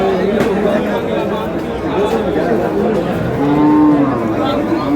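Beef cattle at the Aftabganj livestock market, a clear drawn-out moo standing out near the end above steady crowd hubbub and people talking nearby.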